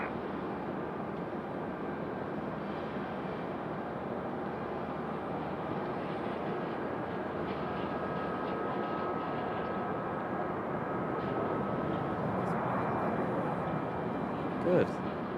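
JetBlue airliner departing from Raleigh Durham International Airport, heard as a continuous broad roar of jet engines at a distance, steady and sustained throughout with little change in loudness.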